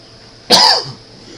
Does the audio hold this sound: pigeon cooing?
no